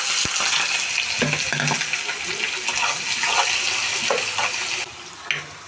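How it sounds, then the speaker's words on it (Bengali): Onion frying in hot oil in a wok gives a loud, continuous sizzle close by, with occasional stirring clatter and a brief dip near the end. "তেলটা গরম হয়ে গেছে, আমি এখন পেঁয়াজটা দিয়ে দিই।"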